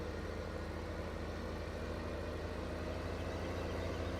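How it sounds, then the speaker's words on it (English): A large T8 tractor engine in Farming Simulator 15 idles steadily, a low continuous rumble with an even drone that holds at a constant level throughout, with no voices. "There's our great big T8 tractor."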